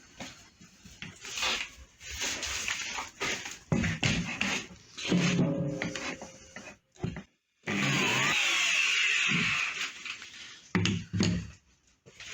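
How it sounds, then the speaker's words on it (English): A large router fitted with a bearing cutter cuts a flat-bottomed cavity in a wooden guitar body, making bursts of loud, whining, rasping cuts broken by short pauses and a sudden silence before a long steady pass. "I'm taking my larger router and just using the bearing cutter to go around what I've already established with the smaller router"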